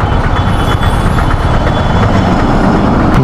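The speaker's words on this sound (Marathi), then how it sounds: "आता मोठा ट्रक येतोय" A large truck on a congested hill road rumbles loudly and close by with a deep diesel engine drone, continuous throughout, with a faint high whine above it.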